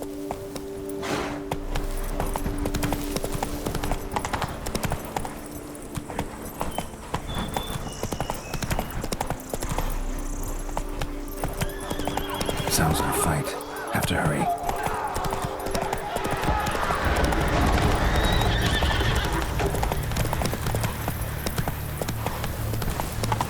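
Roach, the horse in The Witcher 3, gallops at a steady clip-clop rhythm through the whole stretch, close and clear, while a voice speaks over the hoofbeats.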